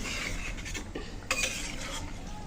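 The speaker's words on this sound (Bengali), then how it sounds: "ভালো করে মিশিয়ে নিলাম" Pumpkin greens being stirred and mixed in a pot: a steady scraping of a spoon against the metal pot, with a louder clank partway through, and no talking.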